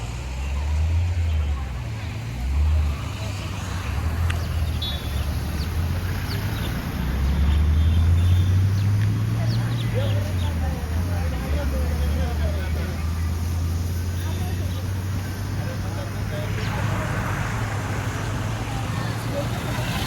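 A bus travels along a road toward Karla Phata on a trip to the Ekvira temple, its engine a steady loud drone that swells and falls with changes in speed under continuous road noise and faint background chatter.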